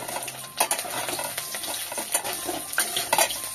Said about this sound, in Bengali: একটু ভাজা হোক আলুটা